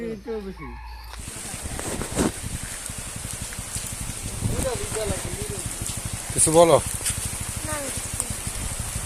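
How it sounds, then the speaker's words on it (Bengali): Heavy monsoon rain pours down in a steady, dense hiss that begins after a second, while people talk close by over the downpour on a village path in Bangladesh. "প্রচুর বৃষ্টি আসতেছে, বৃষ্টির মধ্যেই আমরা গ্রামের পথ প্রান্তরের রাস্তা ধরে হাঁটতেছি"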